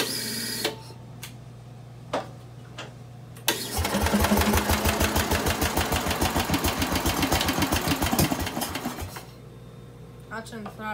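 A small Bolens engine, choked, fires and runs with its throttle up in a fast, loud, even chug for about five seconds, then cuts out. Sharp knocks come before it starts.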